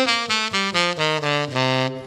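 A saxophone plays a D Dorian scale as a run of eight clear, evenly spaced notes, each held briefly, close and solo with no accompaniment.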